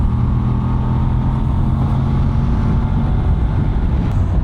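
A Voge DS800X Rally motorcycle engine drones steadily while riding, a loud, close, continuous low rumble with wind noise and no speech.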